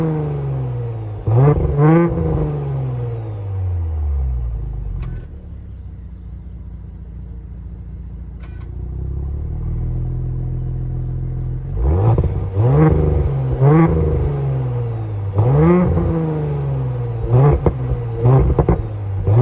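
A 2018 Audi B9 S5 engine revs outside, cycling through several sharp throttle blips with rising and falling pitch, a steadier idle rumble in the middle, then another run of quick revs.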